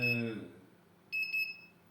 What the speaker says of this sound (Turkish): buzzer'ımız ötüyor, ledimiz yanıyor